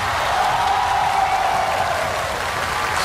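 Applause from a concert audience greeting singers at a New Year's Eve live music show, a dense, steady wash of clapping that holds evenly loud for the whole stretch.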